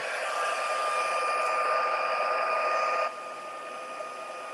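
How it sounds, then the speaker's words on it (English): A heat gun blows a steady, loud hot-air whir at something being melted, running evenly for about three seconds before dropping to a softer, lower setting. "so let's heat this up"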